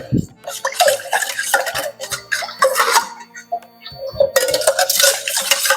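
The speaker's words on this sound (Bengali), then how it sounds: "এই এক কাপ চিনিটা আমি পুরোটাই এর মধ্যে দিয়ে দিচ্ছি" A cup of sugar is poured into mint juice, giving busy clinking, pouring and stirring sounds close up in a kitchen that continue throughout.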